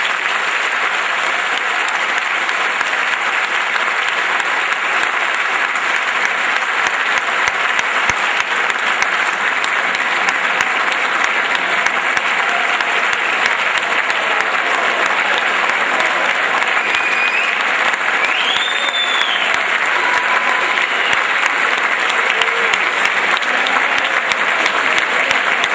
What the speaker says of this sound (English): Please join me in one more round of applause for this year's inductees.